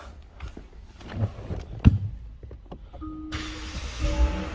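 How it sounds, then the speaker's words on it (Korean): A full-option Kia K9 (The K9) sedan: a thump and a short electronic chime, then the engine starts at about three seconds and settles into a steady, close idle hum with no talking. "앞쪽으로 와서 시동을 걸어 보겠습니다"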